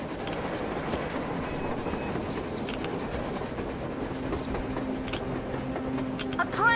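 A train rolls past across a snowy surface during a blizzard in Metro Exodus, a steady dense rumble of carriages with faint clatter under blowing wind, continuous and fairly loud, with a brief rise near the end.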